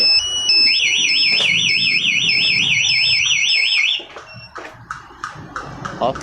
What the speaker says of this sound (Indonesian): maka yang alarm di motor akan bunyi, yang di remote juga akan bunyi.